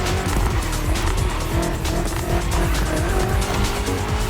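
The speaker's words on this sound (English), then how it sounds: "We're putting 3 BMW MCS to the test over very long distances, and it's your job to drive them one after the other" BMW M CS cars in the racing game The Crew Motorfest, tested over long distances: a loud, steady engine roar with tires squealing and skidding throughout, up close, with no talk.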